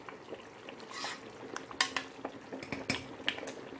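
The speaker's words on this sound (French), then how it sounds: "J'essaie de remuer un peu." A utensil stirs and scrapes a thick African sauce in a cooking pot, producing irregular clinks and soft sloshing scrapes, close and moderately quiet, with a light sizzle beneath.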